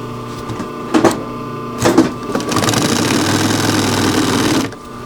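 Sewing machine stitching a seam in a wool blanket shirt: a couple of short bursts of stitching, then a steady whirring run of a few seconds that stops abruptly, heard up close.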